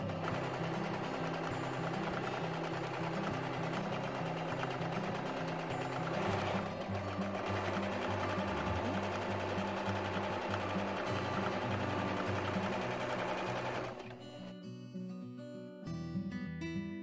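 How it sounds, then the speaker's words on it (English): A sewing machine running a straight stitch along the edges of a muslin double cotton gauze swaddle blanket, with a long continuous whir of rapid needle strokes, close and steady, then slowing into short bursts near the end, with no talking. "Sew your edges using a straight stitch"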